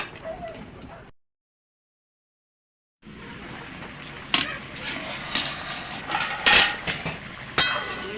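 A metal pot holding star fruit chutney is covered with its lid for boiling, making scattered clinks and knocks after a brief silence, with kitchen noise in between.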